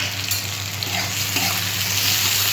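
Onion fries in a pan with salt and sugar for a rohu fish and spinach curry, giving a steady, close sizzle with occasional stirring scrapes and no talk over it.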